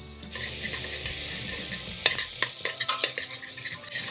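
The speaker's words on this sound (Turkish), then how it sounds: "Ve aynı tencerede bu sefer sebzelerimi soteliyorum yine." Diced onion and zucchini sizzle steadily in a hot pot, with a few sharp scrapes and clinks of a spoon stirring near the end.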